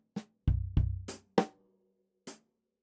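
A drum kit plays a short, sparse groove close up: about six separate hits, including deep kick thumps, sharp snare or rim cracks and crisp hi-hat strikes, with clear gaps between them.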